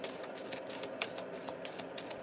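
Tarot cards being shuffled, a steady papery riffle and flutter of the deck that runs continuously and fairly quietly at close range, with no voices.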